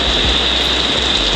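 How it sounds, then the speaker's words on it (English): Heavy rain pours steadily outdoors in Hoi An, Vietnam, a loud, dense, continuous hiss close by with no talk. "It's raining hard, look at that."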